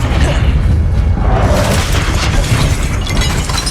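A loud, booming explosion from the Confringo fire spell in the Hogwarts Legacy video game, a dense continuous rumble with crackling bursts filling the whole stretch, with no voices.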